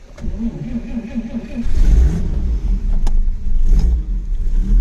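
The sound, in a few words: 1946 Chevy Stylemaster replica cold start with foot starter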